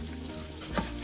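A gluten-free oatmeal pancake cooking in a pan, giving a soft, steady sizzle that stays faint and even throughout, with one slight bump near the end and no talk.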